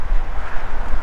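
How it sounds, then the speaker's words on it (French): Gusty wind buffets a microphone outdoors in an open farm field, a loud low rumbling roar that pulses unevenly throughout the short stretch, with no talking. "il y a trop de vent, il y a trop de bruit avec les voitures"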